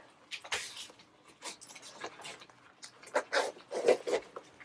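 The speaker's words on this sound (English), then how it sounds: "You can zipper it." A clothing zipper rasps in several short, quiet pulls close by, with soft rustling of fabric between strokes.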